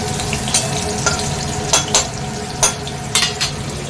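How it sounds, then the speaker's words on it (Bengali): Nigella seeds and green chilies fry in oil in a wok, giving a steady crackling sizzle with a few sharper spits and pops rising above it. "কড়াতে তেল দিয়ে দিয়েছি, এখানে কালো জিরে আর কাঁচা লঙ্কা ফোড়ন দেবো"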